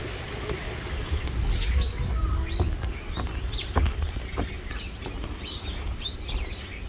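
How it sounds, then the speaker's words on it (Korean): Many wild birds chirp and call in overlapping bursts, some near and some farther off, along a wooden deck trail through a dense forest, with faint footsteps and a steady low outdoor hum beneath. "이 구간은 새들이 얼마나 많은지 귀가 아플 지경이었습니다"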